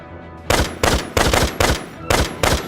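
Rapid gunfire bursts in a Valkyria Revolution battle, six sharp, loud volleys in quick succession with short gaps between them.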